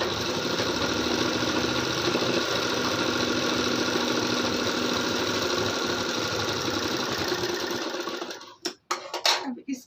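An electric sewing machine runs steadily and loudly while stitching a hook strip onto a blouse, a continuous rapid whirring hum that stops near the end, followed by a few brief handling knocks.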